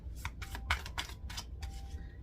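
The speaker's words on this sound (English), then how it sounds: "I'm gonna shuffle." Tarot cards are shuffled by hand in quick, rhythmic riffling bursts, close and fairly quiet over a low background hum.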